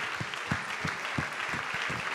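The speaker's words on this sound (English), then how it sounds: "let's give a big applause" An audience at a social business summit applauds visiting delegates, a sustained patter of many hands with a few heavier claps standing out near the front, fairly soft and without speech.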